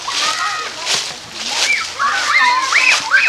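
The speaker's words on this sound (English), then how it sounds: "Oh, look, water fountain." Water splashing and sloshing from a pet water fountain, heard up close under talk from adults and a voice on a farm tour.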